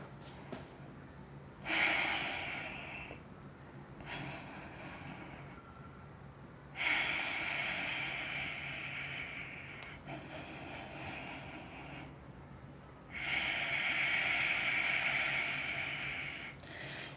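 Ujjayi pranayama breathing during a yoga session: slow, audible ocean-like breaths, long hissing inhales and exhales repeating in a calm rhythm, close and steady with no talking.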